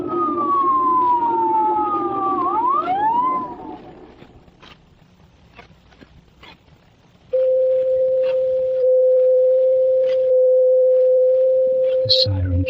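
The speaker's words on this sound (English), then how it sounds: "The siren came, and the ambulance appeared" An ambulance siren wails in falling, sweeping tones, drops away to near quiet, then returns as a single steady, loud held tone.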